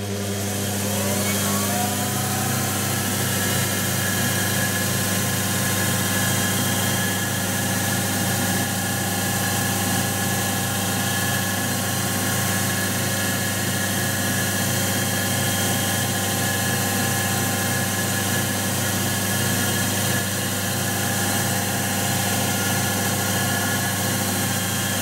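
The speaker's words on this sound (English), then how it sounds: "Spin the lathe up." A lathe running steadily after spinning up, giving a loud continuous mechanical hum with rhythmic whirring and vibration, used to lap an FX airgun valve with fine grinding paste.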